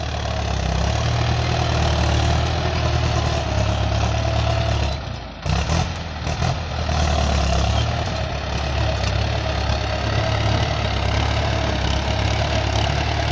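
Ford 6610 tractor diesel engine running steadily, a loud close rumble with a knocking throb, briefly dipping around the middle before settling back to a constant idle.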